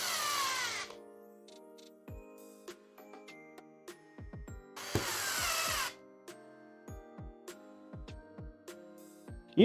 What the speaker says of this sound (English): Much faster with the auto screwdriver.